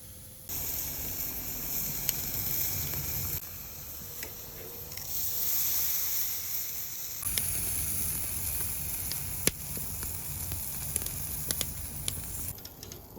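Wagyu tri tip sears on a Hellrazr Yama grill, giving off a steady, fairly quiet sizzling hiss with occasional small pops and crackles.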